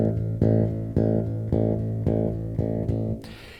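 Bass guitar plays a repeated rock line of six evenly spaced, loud, close plucked notes, with the index-finger strokes landing harder than the others, then the line stops abruptly.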